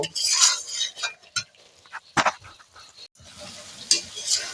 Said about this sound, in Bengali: এইভাবে এক থেকে দেড় মিনিট মশলা ভেজে নেব